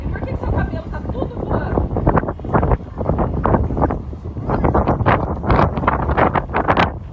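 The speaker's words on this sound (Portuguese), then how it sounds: "Começou a ventar mesmo." Outdoor wind gusting hard against the microphone, producing loud, uneven rumbling buffets that surge and ease throughout, with people talking underneath.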